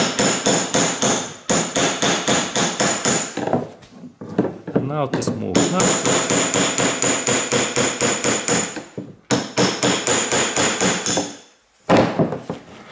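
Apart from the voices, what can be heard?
hammering on metal car part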